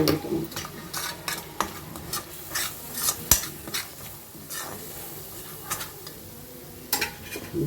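Thick spiced puree for pepper gravy bubbling in a pan, soft irregular pops and plops close by, with no voices.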